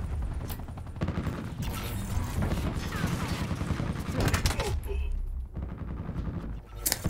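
Bots firing guns on the Firebreak Hardpoint match in Call of Duty Black Ops 4: rapid automatic bursts and sharp shots crackle almost nonstop, loud and close, with a voice talking over parts of the gunfire.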